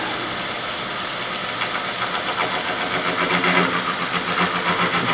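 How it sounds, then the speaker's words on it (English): A lathe cuts a full-depth 40-pitch tooth on a 10-degree helical gear, giving a continuous close mechanical grinding and rumbling that grows slightly rougher and more pulsing toward the end. "Turn on the lathe. And cut another tooth."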